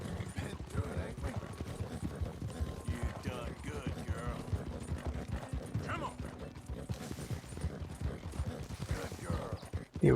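In a Red Dead Redemption race, a White Arabian and a Reverse Dapple Roan Nokota gallop with dense, rapid hoofbeats close up, along with snorts and gear rattle that run continuously throughout.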